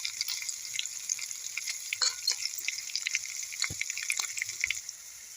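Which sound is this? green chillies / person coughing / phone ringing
green chillies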